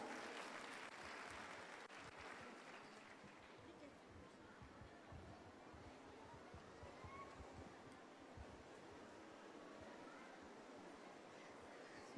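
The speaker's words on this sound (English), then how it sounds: "Let's give them a huge round of applause." Faint, distant applause from an audience after a performance at a school annual day celebration, a soft continuous patter of clapping that slowly fades, heard from far back in a large space.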